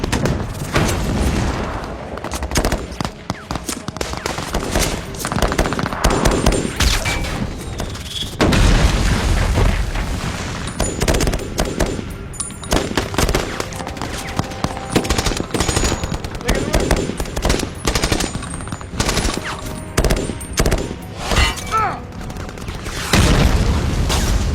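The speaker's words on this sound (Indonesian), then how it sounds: "Militan melemparkan bom Molotov dan menembakkan senjata berat." Sustained heavy gunfire and booming explosions fill a film attack scene in which militants throw Molotov cocktails and fire heavy weapons at a compound in Benghazi, loud and dense throughout with occasional talk underneath.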